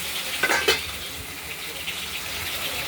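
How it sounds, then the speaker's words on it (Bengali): A rohu fish head fries in hot oil with a steady close sizzle and crackle, punctuated early by brief clinks of a utensil against the pan. "মুড়োটা আমরা ভেজে নিচ্ছি"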